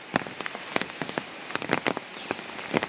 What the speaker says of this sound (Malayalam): ഈ മഴയത്ത് ഡാമ് കാര്യങ്ങളൊക്കെ തുറന്നു കഴിഞ്ഞാൽ വെള്ളം ഇരട്ടിയാവും